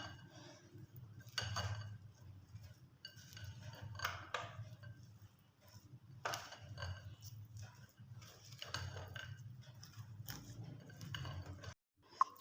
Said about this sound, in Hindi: और अब इन तमाम चीज़ों को अच्छे से हम मिक्स कर लेंगे।